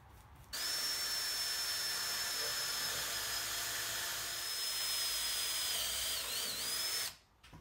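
A power driver drives screws into a wooden console table frame, giving a steady high-pitched whine that starts abruptly, holds for about six seconds with a brief wobble near the end, then cuts off.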